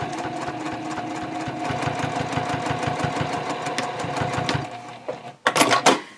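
A sewing machine sews a corner of a drawstring tote bag, going back over an earlier line of stitching with a close, rapid, rhythmic chatter. It stops near the end, followed by a few brief handling clatters.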